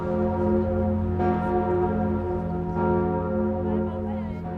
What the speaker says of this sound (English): The fading of the bells of Notre Dame signalled the start of the minute's silence.